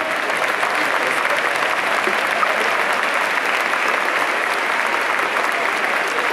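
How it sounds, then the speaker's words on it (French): An audience applauds a tribute to René Gallice with dense, sustained clapping, loud and even from start to finish with no pauses. "Allez, des applaudissements pour un des gars"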